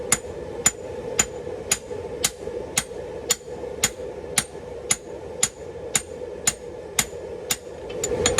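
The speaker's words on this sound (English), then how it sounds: "You're just going to tilt the piece and kind of strike at an angle to pull the material outward." Hammer striking hot steel at an angle to bevel a sword blade for an Irish ring-hilt sword: about fifteen sharp, ringing metallic blows in a steady rhythm, close and loud over a low background roar.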